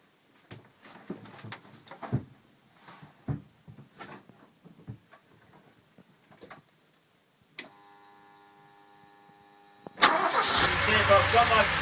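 A DeLorean with a cold-start problem cranks and fires up, preceded by clicks, thumps and brief talk; after a pause with a steady electronic tone, the engine catches and runs loud and steady close by.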